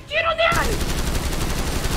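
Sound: gunfire in video game GTA V

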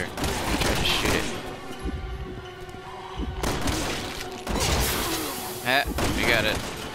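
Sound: shooting fire extinguisher until it explodes, Resident Evil 6 video game

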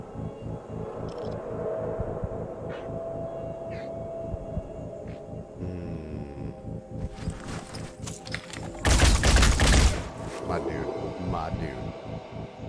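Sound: gunfire in the video game Phoenix Point

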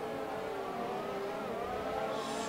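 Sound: F1 2018 race cars dueling side by side, from a video game

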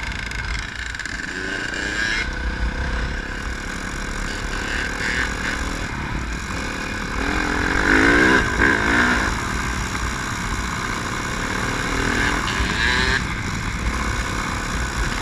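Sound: 2000 CR250 two-stroke motorcycle engine

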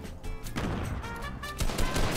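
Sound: sniper rifle shot in video game Fortnite

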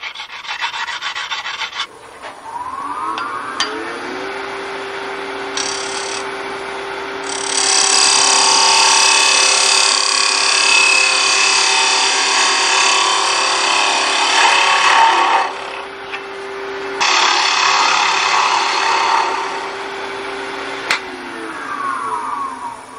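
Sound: honing edge of turned wooden bowl with diamond hone

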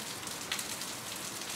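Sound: heavy rain falling, sound effect in a story reading

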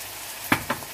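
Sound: spices (masala) frying in a pan

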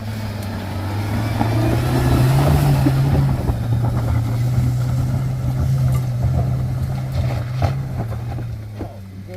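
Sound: off-road vehicle with diff locks climbing a track

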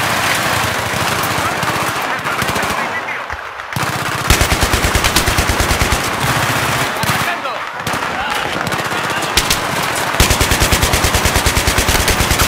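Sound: gunfire in the video game Battlefield 3

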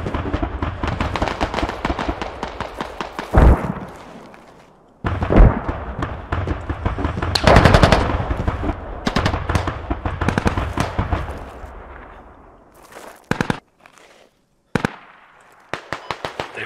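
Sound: gunfire in the video game Squad

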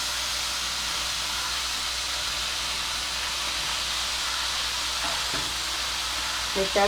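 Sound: field beans (kadve val) added to hot spiced oil, sizzling

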